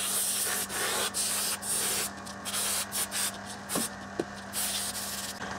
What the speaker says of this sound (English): So air compressor and everything is good to go.